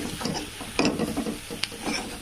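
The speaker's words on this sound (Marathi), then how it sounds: "छान वांगे परतून झालेत असे" Eggplant sautéing in a pan for a spicy gravy dish, with a soft sizzle under brief spatula stirs and clinks, close and moderately loud.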